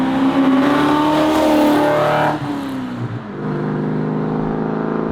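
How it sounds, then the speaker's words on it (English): Holden HQ fitted with a T5 conversion driving close by, its exhaust giving a loud revving drone that rises, dips briefly as the gear changes, then settles into a steady note. "the exhaust note that this thing makes is one of the sweetest exhaust notes"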